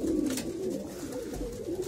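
Pigeons coo steadily inside a loft, overlapping low rolling calls forming a continuous murmur with a few sharper rustles, close and moderately loud.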